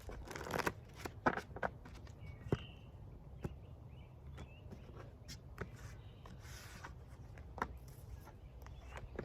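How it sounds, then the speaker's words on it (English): Tarot cards being riffled and shuffled in several quick bursts, crisp and close, with soft handling noises between shuffles. "Let's get 2 more shuffles in."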